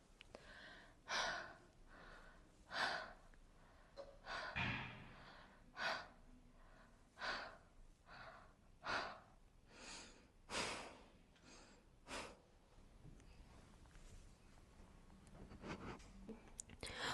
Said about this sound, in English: system analyzes your breathing through the microphone